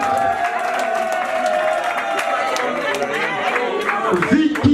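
A party crowd at an evening event in Montreal applauds and cheers for the DJ at the turntables, a steady wash of clapping and chatter under loud music, with a voice speaking over it.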